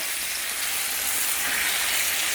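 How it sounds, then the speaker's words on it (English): Beef steaks frying in beef tallow in a pan, giving a steady, close, even sizzle with dense crackling spatter that holds without pause and with no voices. "So these beefs are cooking in beef tallow."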